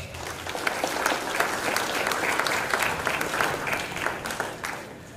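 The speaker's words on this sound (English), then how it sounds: "let's give them a round of applause" An audience applauds at a talk on continuous localisation with open-source tools, a steady dense wash of clapping that holds for several seconds before easing off at the end, with no talk over it.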